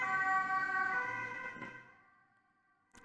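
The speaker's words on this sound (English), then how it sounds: "I'm so sorry about the police car or whatever that is outside." A siren from an emergency vehicle outside, likely a police car, wails loudly at first and then fades over about two seconds, followed by a brief faint knock.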